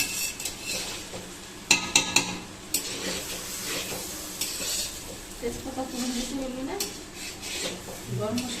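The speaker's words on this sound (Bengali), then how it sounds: "পুরোটাকে নাড়ানো হবে মিক্স করা হবে" A spoon scrapes and clinks against a pot while pulao with cashews and raisins is stirred and mixed in ghee with garam masala and bay leaf, the metallic knocks irregular and close, with a faint sizzle and a voice in the background.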